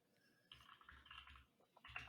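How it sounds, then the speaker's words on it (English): Clickety-clack computer keyboard typing in the background, quiet bursts of soft key clicks in short clusters with pauses between. "Everyone can hear my clickety-clack keyboard in the background."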